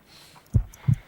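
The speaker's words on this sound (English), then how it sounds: "I need to concentrate and count the heartbeats." Two muffled, low heartbeat thumps in a Sherlock Holmes video game, evenly spaced and close, with a faint hum underneath and no talking.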